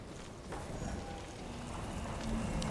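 Horse hooves clop steadily during a ride in the video game Ghost of Tsushima. The beat sits low under ambient game sound and music, and there is no clear speech.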